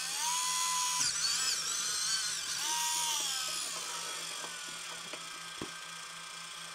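Small N20 gear motor driving a 3D printed RC New Holland loader model at low voltage, a steady high whine that shifts in pitch as it runs, close by with little else around it.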